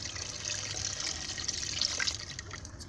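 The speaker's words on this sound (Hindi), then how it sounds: "पानी डालेंगे।" Water pours into a pot of milky masoor lentils cooking on a stove, a faint, steady splashing and gurgling stream that runs continuously and softly without pause.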